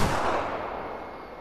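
A shotgun fires a slug in the hunting game theHunter: Call of the Wild, one loud booming shot with a long fading tail.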